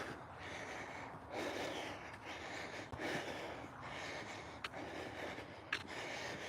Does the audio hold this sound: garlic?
no